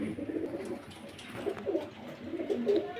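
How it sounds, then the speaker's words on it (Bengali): High flyer pigeons coo in low, throaty repeated phrases, several overlapping calls close by with no talk. "এখানে দেখা যাচ্ছে তিন জোড়া হাইফ্লার কবুতর"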